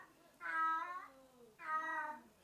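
A cat meows twice, each call a drawn-out tonal mew about half a second long, fairly faint and set against a quiet indoor background.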